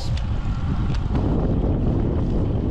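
Strong wind buffets the microphone of a cyclist out on a solo road ride, producing a continuous loud low-frequency rumble and roar with no clear speech.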